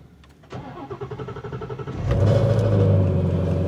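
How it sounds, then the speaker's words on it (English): A starter motor whirs rhythmically for over a second, then a Ford Mustang GT350 with a Gen 2 engine catches on a cold start and roars to a loud, steady high idle up close. "give you guys a proper little cold start right here"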